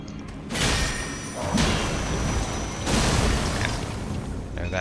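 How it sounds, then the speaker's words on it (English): A large explosion in the video game Elden Ring, with heavy booming rumbles that swell in repeated surges over a few seconds, loud and dense throughout. "There, that explosion was happening."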